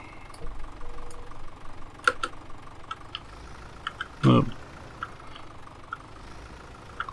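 A tractor engine idles with a low, uneven knock that runs throughout. A person talks over it, and a loud clunk stands out partway through.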